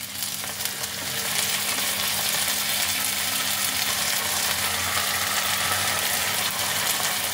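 Ginger garlic paste frying with onions in a pan gives a loud, continuous close sizzle that holds steady throughout, with faint stirring under it and no talking.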